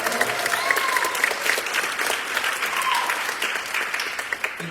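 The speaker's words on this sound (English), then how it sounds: "Give them a round of applause." Steady applause from an audience at a middle school spring concert, a moderate even patter of many hands clapping continuously, slightly distant in the hall.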